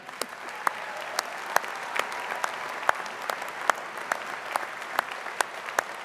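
Scattered, sparse hand claps from a university winter commencement audience, individual sharp claps spaced irregularly over a soft crowd murmur, fairly distant and thin throughout.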